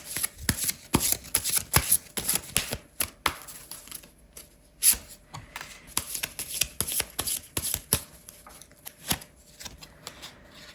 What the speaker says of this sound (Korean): 마지막으로 오라클 카드도 뽑아볼게요